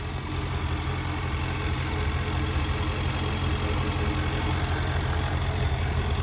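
Supercharged V8 of a Range Rover Velar SV Autobiography idles steadily, a continuous low rumbling drone with a constant hum, close and loud, no voices.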